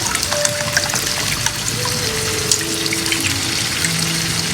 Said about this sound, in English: I'm going to add a cup of water,